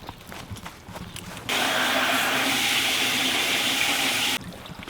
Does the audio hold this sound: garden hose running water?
yes